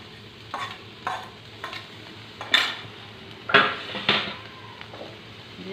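Crushed ginger-garlic paste is stirred into a sizzling cooking pot for an Assamese banana-flower dish with moong dal and fish head. A metal spoon scrapes and clanks against the pot in regular strokes over a soft frying hiss, with no voices.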